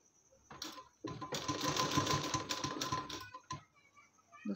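A sewing machine stitches a fabric strip onto a blouse sleeve, running in one steady burst of about two seconds after a few brief starts, close and clear with no talking.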